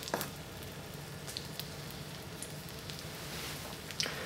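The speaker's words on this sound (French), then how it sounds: "On va maintenant cuire nos steaks." Beef steak frying gently in a pan of melted butter, giving a steady, soft sizzle with occasional faint pops and no talking.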